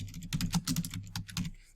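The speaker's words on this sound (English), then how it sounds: "Sorry if that keyboard is really loud in your ear." Rapid, irregular keystrokes on a computer keyboard while text is typed into an Office 2016 document, close and loud, with no voices.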